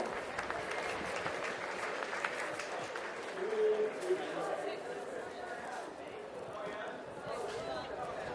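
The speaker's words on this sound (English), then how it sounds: "Let's give both teams a round of applause." A polo match crowd applauds steadily throughout, a broad continuous clapping wash with an announcer talking over it.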